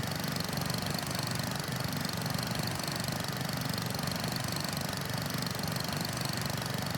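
A vintage tractor engine in Farming Simulator 25 hums steadily, a continuous mid-pitched drone at an even, moderate level with no talk over it.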